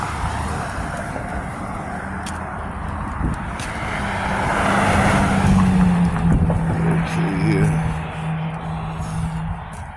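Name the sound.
bus and traffic passing on a street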